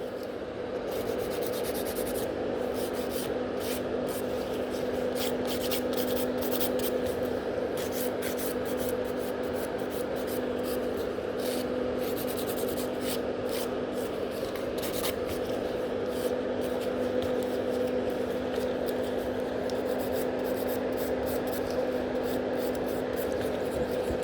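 Rapid rasping strokes of a nail file on natural nails, a close, continuous scratchy texture with quick repeated bursts under a steady background hum, lasting throughout.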